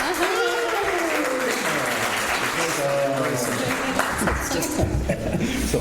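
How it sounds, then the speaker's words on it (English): Audience applause at a comic festival panel in Munich, a steady wash of clapping from a large crowd with voices and speech sounds mixed in throughout. "I listen to applause, thousands of applause."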